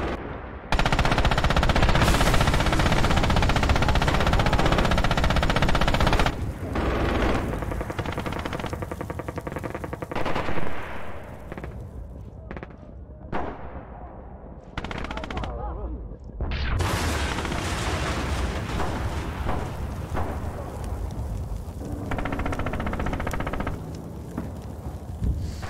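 Gunfire from a weapon in the video game Red Orchestra 2, dense sustained bursts of loud automatic fire with short pauses and booming impacts, close and continuous throughout.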